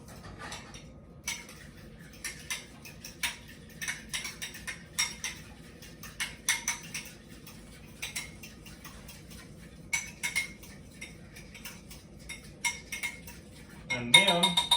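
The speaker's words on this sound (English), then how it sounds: "It says to stir it vigorously." An egg mixture is stirred vigorously in a bowl, with a spoon clinking and scraping against the bowl in quick irregular bursts, louder near the end, over a quiet room.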